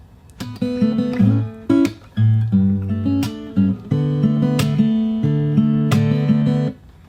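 Fingerstyle acoustic guitar plays the opening bars of a song, a plucked melody over bass notes and chords with steady rhythm, close and clear with no voices.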